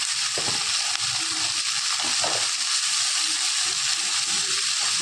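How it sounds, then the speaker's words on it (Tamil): Steady frying sizzle and hiss from a pan of fish curry as cleaned crab is added and stirred in, with faint stirring scrapes and clinks under the continuous loud sizzle, no voices. "இந்த சைடு மீன் குழம்பு போச்சுட்டு இப்போ அலசி வச்ச நண்டை சேர்த்துக்கலாம்."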